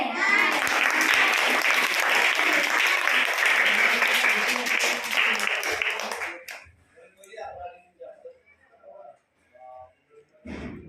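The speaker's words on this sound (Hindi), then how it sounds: "ताली बजाओ" Group of people at a school drama performance clapping loudly together for about six seconds, a thick sustained burst that breaks off abruptly. A few scattered claps and a short voice follow in the quieter remainder.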